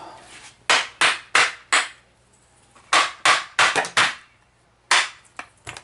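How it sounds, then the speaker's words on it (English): A small mallet tapping glued wooden corner blocks off a dining chair frame, about a dozen sharp knocks in short clusters with gaps between, close and fairly loud, no talk. "so we're just going to take our little mallet and tap them off"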